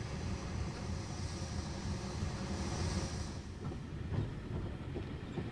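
A steam crane works on the Watercress Line heritage railway in Hampshire in 1981, giving a loud, steady mechanical rumble with hissing that carries unbroken through the whole stretch, with no voices.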